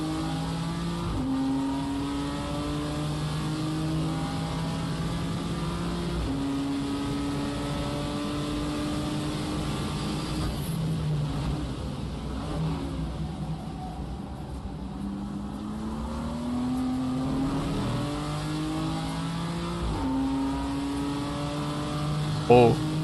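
A BMW race car in a sim racing game revs and shifts repeatedly, its engine note climbing and dropping through gears in a sustained loud drone with brief lifts, heard continuously for over twenty seconds with no talk.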